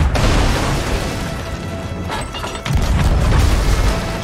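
Ship cannons fire from a galleon in the pirate video game Sea of Thieves, a dense rumbling barrage of booms and crashes that is loud and continuous throughout, with no talk over it.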